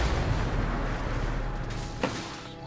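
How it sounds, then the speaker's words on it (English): Missile launches in the video game Dungeon Defenders: a dense, continuous rumble of booming artillery-like blasts with a sharper burst near the end, loud and close, with no one talking. "Fire some missiles."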